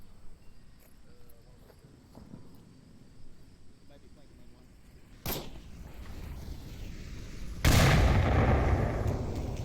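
Grenade blast and gunfire in the Onward VR shooter, two sharp loud bangs several seconds apart over a low background of distant shots, with faint talk underneath.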